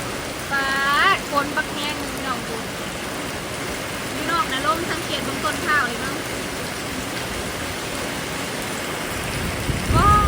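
Steady heavy rain hisses throughout, a dense wash of noise, with brief scattered voices and chirps heard faintly over it.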